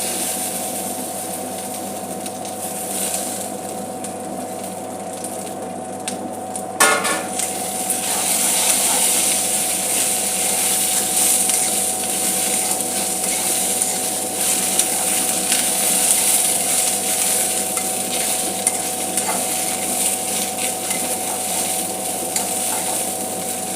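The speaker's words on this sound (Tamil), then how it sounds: "இப்போ நம்ம நல்லா அலசி கிளீன் பண்ணி வச்சுருக்க கருவேப்பிலையை இதில் போட்டு நல்லா வதக்கணும்" Curry leaves sautéing in a pan while curry leaf powder rice is prepared, a steady close sizzle and crackle running throughout, with a brief clatter around seven seconds before the frying settles back to an even hiss.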